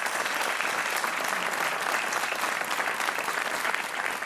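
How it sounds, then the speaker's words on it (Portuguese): Studio audience applause on the Portuguese TV quiz show Joker, a dense, loud, steady wash of clapping throughout without any voices. "Um aplauso para o Paulo Martins"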